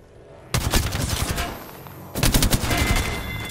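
Two loud, close bursts of automatic gunfire from the battle royale game Apex Legends, each a rapid rattling string of shots with a brief lull between them, with no talking.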